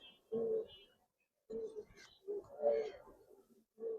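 Giribaz pigeons in an Old Dhaka loft give soft, low cooing calls in short bursts with gaps between, fairly close, while someone talks nearby.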